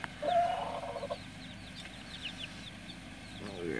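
Chickens and a rooster clucking nearby, a burst of calls at the start followed by softer scattered clucks.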